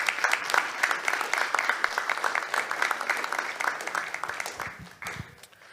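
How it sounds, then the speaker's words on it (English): Audience at a business breakfast meeting applauding a panelist, dense sustained clapping from a crowd that tapers off toward the end. "Let's welcome Dr. Daniel Settle with a round of applause."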